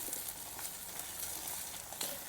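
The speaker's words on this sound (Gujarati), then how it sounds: "આમાં તેલમાં સરસ મજાનું મિક્સ કરી લેવાનું" Garlic chilli and cumin stirred into hot oil for a fenugreek seed curry give a soft, steady sizzle with light stirring, fairly quiet and without voices.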